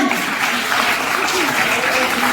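Children at a school competition prize-giving applaud a winner, their clapping a dense, continuous, fairly loud patter from start to finish.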